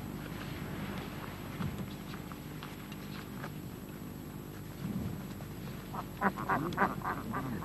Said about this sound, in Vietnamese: nước ở giữa sa mạc và một đàn vịt